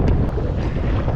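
Strong wind buffets a fishing boat out at sea, a steady, loud rush of blowing air and water noise filling the whole stretch without any talk.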